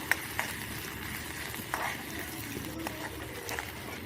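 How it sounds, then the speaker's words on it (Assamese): Onions frying in oil in a pan, a soft continuous sizzle with a few light stirring knocks, close and fairly quiet. "পিয়াজখিনি অকমান ভাজি লম"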